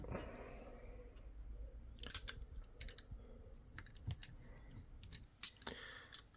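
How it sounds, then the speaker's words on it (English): Scissors or cutters snip small parts during a SAB Raw Nitro RC helicopter build, several sharp close clicks and snaps scattered irregularly over quiet handling noise. "just to snip these up"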